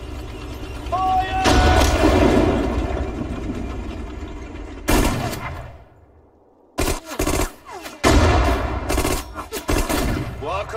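Battle sounds from the WWII strategy game Sudden Strike 4 with sustained rumbling gunfire and heavy artillery blasts, a brief lull, then renewed bursts of shots, while soldiers' voices call out over the combat.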